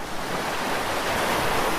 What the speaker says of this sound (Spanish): Escucha el agua.